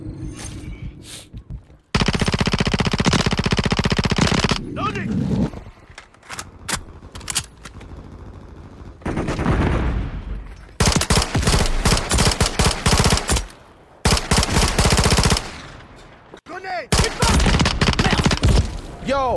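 Loud automatic gunfire in Call of Duty: Modern Warfare 3 erupts in long, dense bursts separated by brief lulls, with rapid rattling volleys and occasional single shots.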